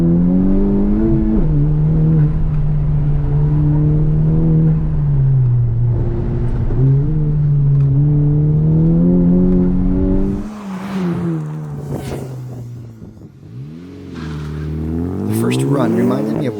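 A 2021 Honda Civic Type R accelerating hard in second gear from a low-speed corner, its engine droning and rising in pitch close by, then a shift and renewed revving with some tire noise, with someone talking over it.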